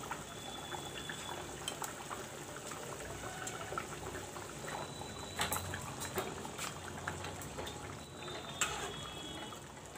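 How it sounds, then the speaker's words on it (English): Fish and potato curry boiling in a pot, with bubbling, gurgling liquid and occasional sharp pops and clinks, fairly close and steady without speech. "Let this boil little with the fish."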